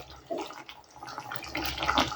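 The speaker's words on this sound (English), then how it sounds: "here's where we add another cup of water." A cup of water poured into a simmering curry base, a short splashing pour that swells and gurgles near the end, close and moderately loud, with no talk.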